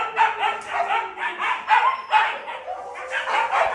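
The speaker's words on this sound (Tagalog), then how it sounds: "tumatahol-tahol pa rin." A lively pack dog barks and yips repeatedly at close range, with busy overlapping barks from other dogs in the pack continuing throughout.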